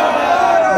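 A crowd at a political gathering roars back a loud, sustained chant in answer to a Naara-e-Takbeer call, many voices blending into one dense shout.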